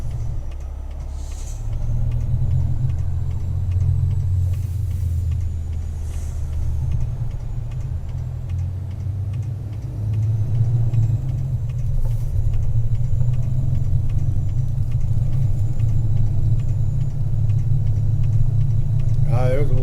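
A truck's engine rumbles low and steady as it pulls away in first gear in high range, the deep drone swelling slightly as it gets going, with a voice over it.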